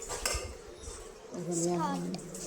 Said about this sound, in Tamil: பாத்திரம் கழுவ ஆரம்பிச்சிட்டேன்.